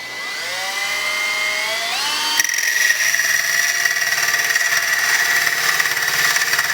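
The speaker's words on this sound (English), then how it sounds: "pay close attention to what you're doing with the cutting wheel" Rotary tool cutting wheel scoring a Centurian Arms C4 rail, a high whine that spins up, then shifts into a harsher grinding tone as the wheel bites the metal, loud and close with no one talking.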